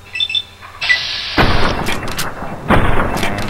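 Gunshots fired in Fallout: New Vegas, a few loud booming reports, each leaving a rumbling tail, following a short electronic chime, close and with no talk.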